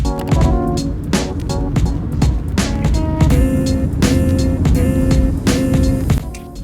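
Congested car traffic on a Manhattan street in New York: loud, continuous engine rumble with passing vehicles and bright horn-like tonal blasts, busy and close.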